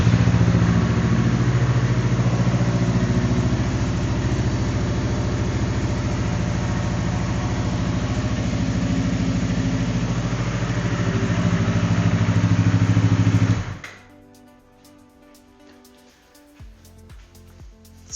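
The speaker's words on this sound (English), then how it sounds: "So if I briefly start the engine" A Yamaha R3 motorcycle engine runs at a steady, loud idle close by for about thirteen seconds, a low rumbling drone, then cuts off abruptly, leaving quiet background with faint clicks.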